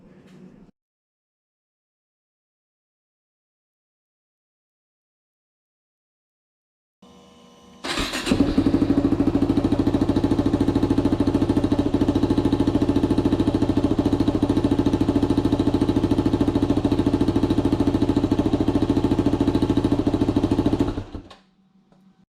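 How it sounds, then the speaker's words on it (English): A Yamaha WR250R motorcycle engine starts and idles steadily at close range for about thirteen seconds, a loud continuous rumble that cuts off abruptly, preceded by a few faint clicks. "So that was just I don't know, 20 seconds running, and that should be enough to circulate the oil."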